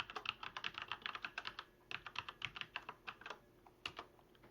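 Rapid, uneven keystrokes on a computer keyboard while a password is entered at a login prompt, close and fairly quiet, with a short pause partway through before the tapping resumes.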